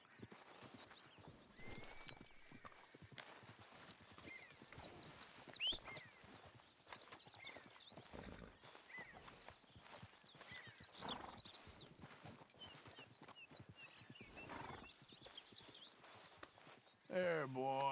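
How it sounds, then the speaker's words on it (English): In Red Dead Redemption 2, hooves clip-clop at a walking pace and a horse whinnies, with voices speaking over the scene and a louder burst near the end. "How are we going to sell the horse if you won't ride it?"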